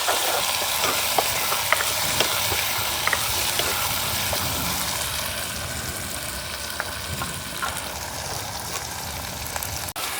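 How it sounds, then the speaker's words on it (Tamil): Shallots, green chillies and curry leaves crackle in hot oil, a dense, steady sizzle close by, broken by scattered light scrapes of a spoon turning them over, with no talk. "நிறைய சின்ன வெங்காயம் பச்சை மிளகாயும் எடுத்துருக்கிறோம் கருகப்பமிலையும் அதையும் போடுவோம் இதையும் நல்ல வடிவாக பிரட்டி விடுவோம்"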